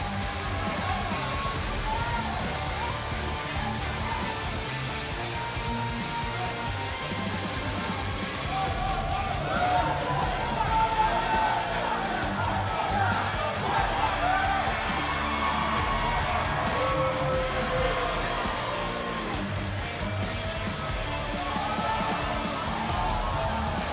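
An arena crowd cheers, yells and whoops steadily in WWE 2K19, a loud, dense roar sustained throughout with swelling peaks in the middle before a wrestling match.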